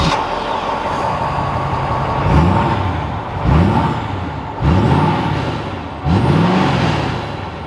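A 2021 Ford F-250 Limited Super Duty pickup sets off and drives with a low engine rumble, revving up through several distinct rising surges as it accelerates and shifts, heard from inside the cab.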